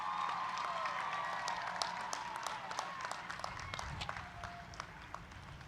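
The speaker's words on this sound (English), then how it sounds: "Graduates, please give your parents, friends, and family another round of applause." Audience applause at a university graduation ceremony, a steady wash of clapping with scattered sharp claps and a few cheers, heard from some distance beneath faint tonal background sound.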